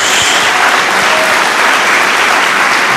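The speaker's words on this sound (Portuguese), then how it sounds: "Dá uma salva de palmas a Jesus." Church congregation clapping together in a loud, steady round of applause that fills the whole stretch, with no voices rising above it.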